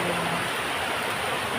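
River water rushes steadily past a fishing spot on a muddy, sandy stream swollen by recent flooding, a dense, continuous broadband roar with no pauses.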